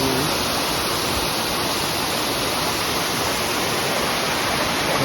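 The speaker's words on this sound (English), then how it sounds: "It's actually a pretty big waterfall, bigger than I thought it was going to be." Hungarian Falls, a large waterfall about 80 to 100 feet high in the woods near Houghton, Michigan, roars as a steady, dense broadband rush of falling water, constant and unbroken throughout with no voices.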